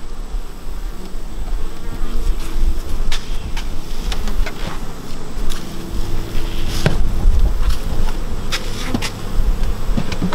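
A dense swarm of honey bees buzzes continuously around a hive, loud and close, with individual insects zipping past now and then.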